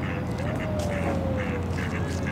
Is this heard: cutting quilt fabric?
no